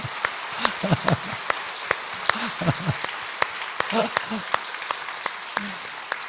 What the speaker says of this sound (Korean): 다시 한번 우리 아이들 잘 길러달라고 박수 한번 합시다